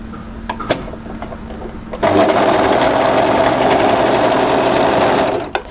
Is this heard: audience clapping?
no